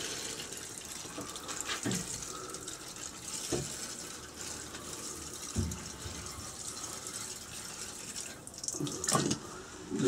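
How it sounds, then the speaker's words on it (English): Water being poured to give an onion seed tray a decent soaking, a steady soft splashing trickle with a few louder bursts, close and fairly quiet, no talk. "All I do now is just give it a decent soaking of water."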